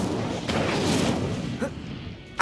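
A fiery spell blast from Hogwarts Legacy bursts out in a few whooshing, crackling pops over a steady game background, with a sharp hit at the very end.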